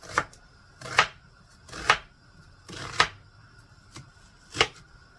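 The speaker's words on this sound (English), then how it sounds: "So I'm going to chop up some onion." Onion being chopped with a knife on a cutting board: six crisp, close knocks spaced about a second apart, with quiet pauses between strokes.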